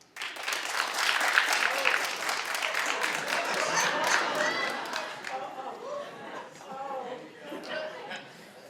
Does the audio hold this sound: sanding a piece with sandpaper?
no